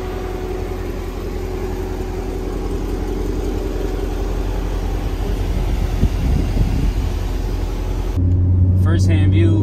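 A Corvette engine idles with a steady low hum and some wind noise, and the tone shifts slightly near the end as the engine note firms up, with a voice speaking over it.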